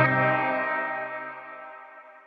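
Electric guitar chord through a Source Audio Ventris reverb pedal set to a modulated reverb, ringing out loud and lush with a gentle shimmering wobble as it decays over two seconds.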